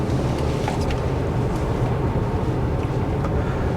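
Steady, loud low rumble of a 2023 Toyota Highlander Platinum driving tight circles in a parking lot, with engine and road noise and no talking.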